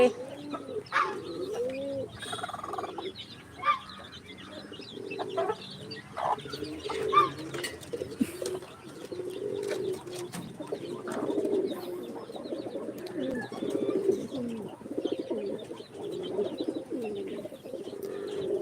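Pigeons, a parent pair with two or three young, coo repeatedly in soft, rolling low calls, close and continuous, with scattered chirps and small rustling clicks around them.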